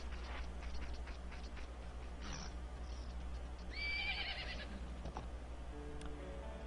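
In Majora's Mask, a game horse gives a short, bright whinny midway through, faint and set against a low, steady game soundtrack with a few soft knocks and no speech.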